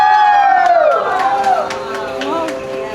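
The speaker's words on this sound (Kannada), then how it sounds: "ಜೋರಾದ ಚಪ್ಪಾಳೆ ಬರಲಿ." Audience at a double wedding anniversary celebration for 10 and 25 years cheers with rising whoops and shouts, mixed with scattered sharp claps, loud and close.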